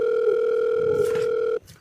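A steady telephone dial tone hums alone for about a second and a half, then cuts off abruptly, leaving faint background noise.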